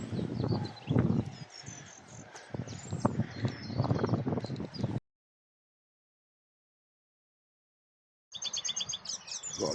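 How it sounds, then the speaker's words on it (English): A song thrush singing outdoors on a windy day, bright repeated phrases over wind noise, then a gap of silence before the song resumes. "Got a lovely song thrush."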